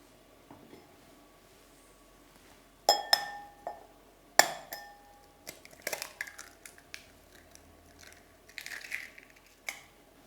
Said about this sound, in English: Now, break the egg into the glass you received